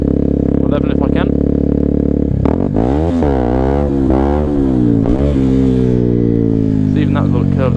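A 125cc motorcycle engine revs loud and close, its pitch sweeping up and down in repeated throttle blips over a steady running drone, with a voice talking underneath.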